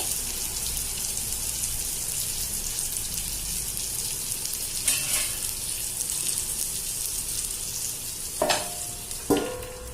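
Surmai fish frying in a covered pan makes a continuous, even sizzle, with a few brief clinks and knocks near the end.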